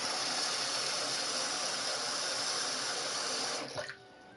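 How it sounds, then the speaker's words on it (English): Water runs steadily from a sink tap in a broad, constant hiss that cuts off sharply near the end, leaving a brief splash and quieter tail. "Want me to go get you some water in the sink?"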